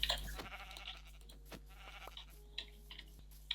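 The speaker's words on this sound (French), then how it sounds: "Ah, mouton." A sheep bleating in Minecraft, faint and distant, with a few soft clicks and ticks scattered through an otherwise quiet scene.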